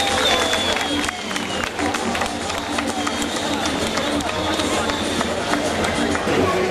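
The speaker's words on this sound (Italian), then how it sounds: "Un applauso!" A crowd applauds the official Sicilian mask Peppe Nappa at a Sicilian cultural festival in Saronno, a dense, steady wash of clapping mixed with crowd hubbub that holds for the whole stretch.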